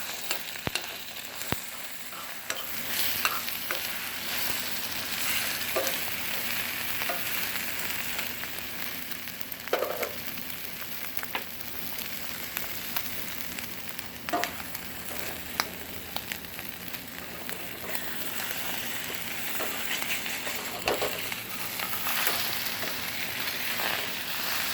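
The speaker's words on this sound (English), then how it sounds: "I'm going to scramble right in the pan" Eggs for Tex-Mex migas scrambling in a hot pan, a long steady sizzle and crackle under frequent spatula scrapes and occasional knocks, fairly close and even throughout.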